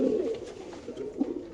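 Racer pigeons at a loft coo softly, a few low throaty calls close by over quiet background murmur.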